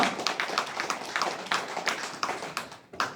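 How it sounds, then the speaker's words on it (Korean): An audience at a talk claps in a scattered, uneven way, with individual hand claps of varying strength standing out rather than merging into a full roar, fairly quiet overall. "이런 얘기 할 때는 여러분 박수를 쳐야 돼요"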